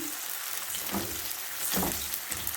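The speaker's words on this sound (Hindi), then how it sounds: "अब इसके अंदर जो है अदरक लहसुन का पेस्ट मैंने शामिल कर दिया है 2 स्पून।" Ginger garlic paste hits lightly browned onions in a hot pan, a close, steady sizzle with a couple of louder spitting bursts and stirring, no talk.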